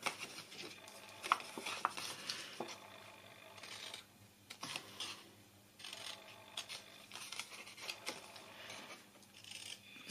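Scissors cutting 12-inch square paper to make a gift bag, a steady run of close rasping snips and slicing strokes in uneven bursts, with brief pauses between cuts.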